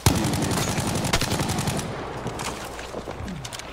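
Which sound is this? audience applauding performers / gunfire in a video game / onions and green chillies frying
gunfire in a video game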